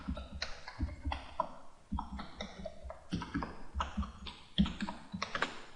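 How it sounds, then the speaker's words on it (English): Fingers type rapidly across a computer keyboard during a C# programming tutorial, a quick run of close, crisp key clatters in uneven bursts with no talking. "I just went right across my keyboard."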